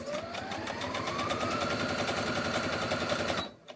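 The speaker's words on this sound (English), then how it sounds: "I'm going to just sew over that line that I just created real fast." A sewing machine stitches quilt binding in one steady, fast run of rhythmic mechanical chatter with a rising motor whine, close by, before it stops abruptly.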